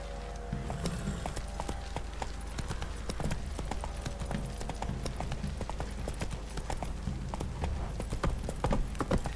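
Horse hooves clip-clop at a steady riding pace in The Witcher 3, loud and continuous over a low rumbling ambient bed, with no talk.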